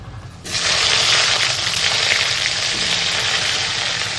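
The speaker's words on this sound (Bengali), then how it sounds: "সামান্য একটু লবণ দিয়ে সুন্দর করে আলুগুলোকে ভেজে নেব" Cut potatoes with a little salt dropped into hot oil with tempered spices, a quiet background that bursts into a loud, dense, steady sizzle which continues to the end.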